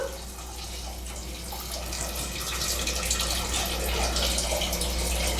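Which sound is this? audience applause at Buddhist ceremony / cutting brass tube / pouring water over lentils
pouring water over lentils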